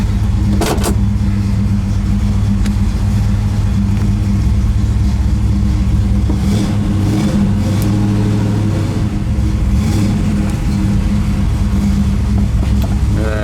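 A warmed-up 1973 Chevrolet Camaro Z28 V8 idles loud and close after starting, a steady deep rumble with a brief rev near the start and slight swells throughout.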